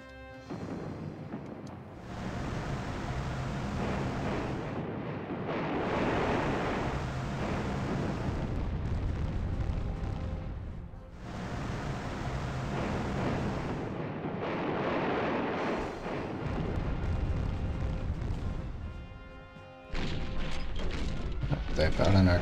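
Artillery fire in the wartime strategy game Panzer General II, set at Malta 1941: long, heavy roaring rumbles in three or four sustained waves, loud and broad, each fading before the next.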